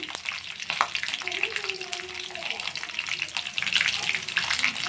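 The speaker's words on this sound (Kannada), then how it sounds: "ಸಾಸಿವೆ ಹಾಕ್ಕೊಂಡ್ಮೇಲೆ ಕರ್ಬೇವಿನ ಸೊಪ್ಪು ಹಸಿಮೆಣಸಿನ್ಕಾಯಿ ಹಾಕ್ಕೊಳ್ಳಿ" Curry leaves and green chillies crackle and sputter in hot oil with mustard seeds, a busy close sizzle with scattered pops and a faint stirring scrape, no talking.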